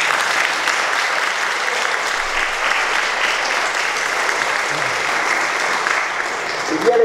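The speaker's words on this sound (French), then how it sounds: "vous pouvez les applaudir aussi." A congregation applauds steadily inside a church during a First Communion celebration, a dense, continuous wash of clapping that holds at an even level throughout, with a voice briefly surfacing near the end.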